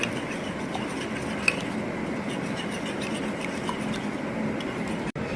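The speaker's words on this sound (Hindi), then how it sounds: "क्रीम और कंडेंस मिल्क को हमने अच्छी तरह से मिक्स कर लिया" Cream and condensed milk stirred together for a mango dessert make a soft, continuous swishing and scraping in a bowl, with one small clink early and a sharp tap at the end.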